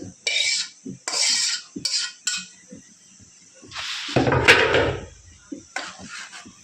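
Metal utensils scrape and clink against a pot as cooked vegetable curry of papaya, potato, cauliflower and dal is moved into another pot, in uneven bursts with a louder clatter midway.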